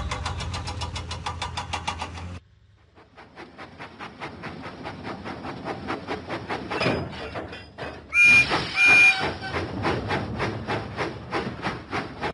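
Percy the steam engine puffs out of the docks in a Thomas & Friends video game, a quick run of rhythmic chuffs with mechanical clanks and a brief loud burst partway through, no talk.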